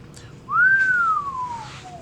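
A storyteller's voice imitates a scarecrow whistling through straw teeth: one clear, rising-then-falling whistle, close and fairly loud, trailing off softly at the end.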